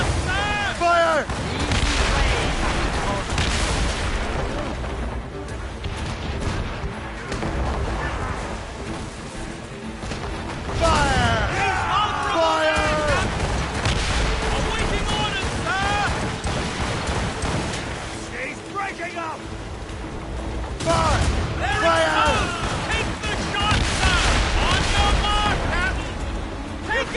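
Ship cannons firing during a naval battle in the video game Assassin's Creed Rogue, repeated heavy booms and rumbling blasts mixed with dense battle noise, with shouted voices heard throughout.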